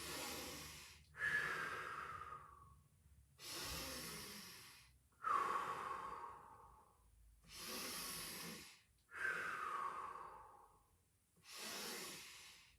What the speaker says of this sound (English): We're breathing in.